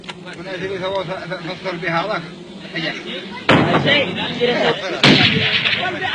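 Sufyan and Ahmar tribesmen firing guns in a mountain welcome for a sheikh, with two loud, sharp gunshots that echo across open ground, heard over someone talking.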